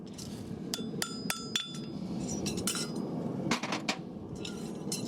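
Hammer blows on a handmade horseshoe at a farrier's forge ring out sharply, a quick run of metallic strikes followed by scattered clinks and later a second cluster, over a steady low rumble of the forge.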